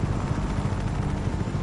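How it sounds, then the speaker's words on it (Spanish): Helicopter in the video game Just Cause 3, a continuous rotor thrum with dense low pulsing, steady and moderately loud with no voices over it. "Es que escucho un helicóptero."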